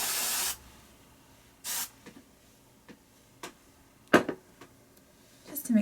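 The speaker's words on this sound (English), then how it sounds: "you could go ahead and give that a little bit of a spray." Hairspray being sprayed in several short hissing bursts, the first and a later one longer and loud, separated by quiet handling sounds.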